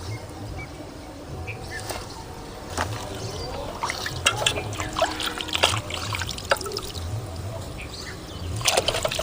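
Water sloshes and trickles as cowpea-curry greens (araikeerai) are swished and rinsed by hand in a vessel, close and irregular, with small splashes and drips building toward the end.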